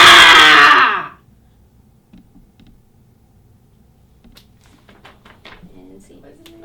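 A woman lets out one loud, sustained high-pitched scream lasting about a second, followed by near silence and faint rustling.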